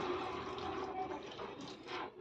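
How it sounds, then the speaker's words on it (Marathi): Hot water is poured into a brinjal and pavta bean curry cooking in a pan, a soft, steady splashing and trickling for a couple of seconds, fairly faint and heard alone. "त्याच्यामध्ये आपल्याला गरम पाणी घालायचं आहे"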